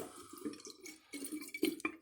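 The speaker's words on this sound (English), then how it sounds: "the only water I see is the water that I'm spilling." Water splashing and trickling with irregular drips and small spatters nearby, soft and uneven, with no voices, spilled while filling a water-to-air intercooler on an all-wheel-drive Honda Civic EM2.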